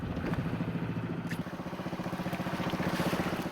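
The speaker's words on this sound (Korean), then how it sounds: "배 엔진이 돌아가는 소리" A fishing boat's engine chugs at sea in the dark, a rapid, even low-pitched pulsing that stays steady and moderately loud throughout, with no voices.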